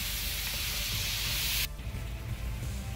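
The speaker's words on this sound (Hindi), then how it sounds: "हमें इसको तब तक भूनना है जब तक इसका कलर वाइट ना हो जाए" Mutton frying with whole spices in a pan, a steady dense sizzle that dips slightly partway through and then carries on, close and continuous with no talk.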